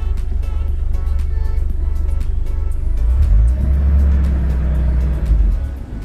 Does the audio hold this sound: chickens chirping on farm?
no